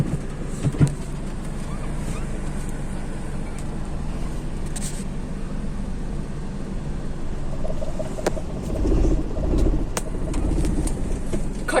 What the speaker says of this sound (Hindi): खटारा गाड़ी हमेशा आवाज करता है